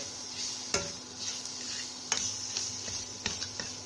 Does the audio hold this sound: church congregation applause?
no